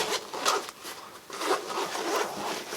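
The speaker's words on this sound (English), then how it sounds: "there's a zipper that runs all the way around from the bottom" A zipper on a plate carrier body armor pack is pulled open in several scratchy, rasping strokes, close and fairly loud, with short pauses between the pulls and no talking.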